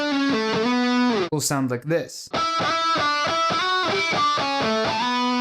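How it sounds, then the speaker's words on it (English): Guitar notes picked with the thumb barely touching the string, so the open note blends with a ringing harmonic; a few sustained, bright tones ring out on either side of a brief spoken phrase. "if we want to have a blend of the initial note and the harmonic"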